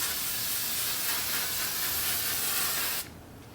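Makeup setting spray hissing from an aerosol can in one continuous close burst lasting about three seconds, then cutting off abruptly into quiet room tone.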